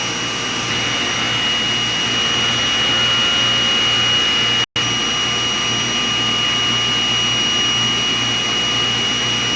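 A DTF printer runs a print head cleaning cycle: a steady, loud mechanical whir with a high whine runs continuously, interrupted by one brief silent gap midway.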